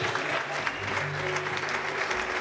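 A church congregation applauds a member, steady close clapping from a room of people that holds even throughout, with a low hum beneath and no speech.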